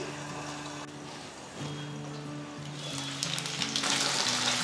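Potato tikki frying in a pan for a no-onion, no-garlic vegetarian festive thali, giving a steady close sizzle with a low hum underneath that grows louder and brighter toward the end.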